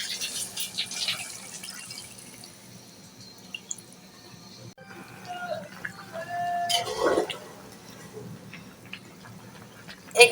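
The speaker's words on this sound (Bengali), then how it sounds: "আর এখন আমি অল্প করে পানি দিয়ে দেব।" Water poured into a pan of bottle gourd curry with tomato and green chillies, a trickling, splashing pour with drips that rises mid-clip and fades, while someone speaks over it.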